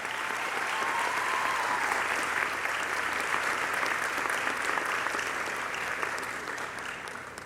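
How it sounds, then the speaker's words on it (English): Graduates at a 2010 community college commencement applaud together, a steady, dense wash of clapping from a large crowd that holds for several seconds and then begins to thin and fade toward the end. "Give yourselves a round of applause for this accomplishment."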